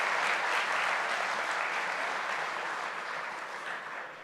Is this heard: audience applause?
yes